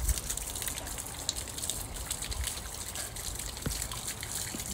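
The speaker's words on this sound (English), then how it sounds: "I like the waterfall, water feature." Water pours steadily from a waterfall feature in an arboretum, a continuous broadband rush of falling and splashing water that stays even and fairly close throughout, with no talking.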